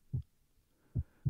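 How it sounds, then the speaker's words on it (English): Muffled heartbeat sound effect in a dramatic reading of Poe's tale: three low, dull thumps, the first alone and the last two close together, with no other sound between them. "the heart beat on with a muffled sound"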